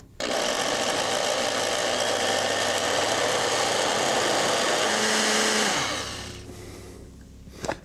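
A blender purees roasted peppers with a loud, steady motor whir and churning that runs for several seconds, then winds down and stops near the end.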